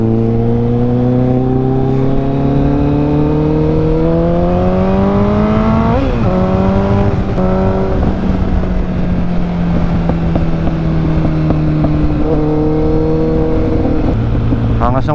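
A Kawasaki ZX14R motorcycle engine drones loudly while riding, its pitch climbing steadily through the gears, then dipping and rising again with each shift. The roar stays close and continuous throughout, with no talk over it.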